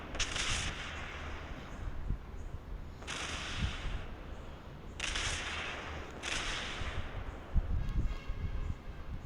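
Ship guns fire in a naval video game during a mixed-tier 4v4 match, with several heavy booming salvos several seconds apart over a low continuous rumble and scattered smaller shots.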